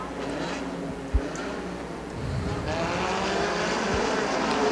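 A street stinger race car engine roars at Dixie Speedway, a steady loud drone that swells in the second half, with a brief thump near the start and open outdoor ambience.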